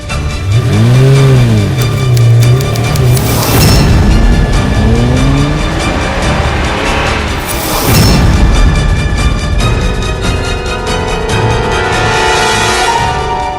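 A car engine revs and pulls away fast, loud and close, with strong bursts of acceleration and sustained driving rumble as it heads off toward a hospital.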